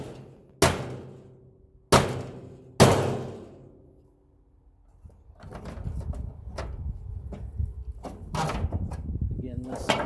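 A hammer strikes a furnace part three times, each a sharp, loud metallic bang with a short ringing decay, spaced about a second apart, followed by clattering and scraping with voices talking.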